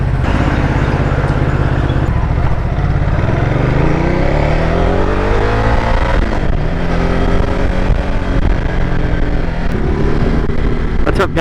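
A Ducati Multistrada 950S motorcycle engine runs loud and close, its pitch rising and falling through several revs over steady mechanical roar and wind.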